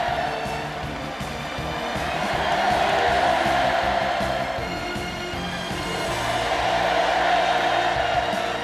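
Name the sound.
crowd of children cheering hurrahs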